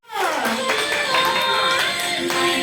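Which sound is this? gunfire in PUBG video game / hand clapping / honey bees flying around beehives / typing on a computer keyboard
hand clapping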